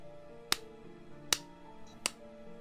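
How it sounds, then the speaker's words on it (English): Three sharp hand claps, evenly spaced about three-quarters of a second apart, crisp and close in a quiet room. "If I clap my hands"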